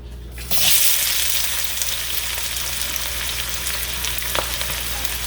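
Onion dropped into hot oil in a wok fries with a loud, steady sizzle that begins suddenly and carries on without a break, and no one speaks.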